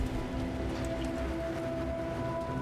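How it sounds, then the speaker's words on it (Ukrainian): Steady rain falling in the video game Clair Obscur: Expedition 33, a continuous even hiss of drops with a faint tonal game ambience running underneath, no speech. "Дощик іде"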